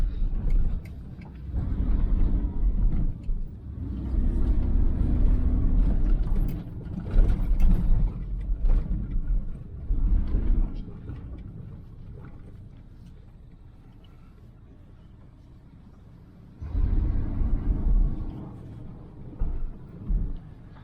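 A 1994 GMC Stepside pickup with a 4L60E transmission drives along a road, its engine giving a low rumbling drone that rises and falls, eases into a quieter stretch, then builds again.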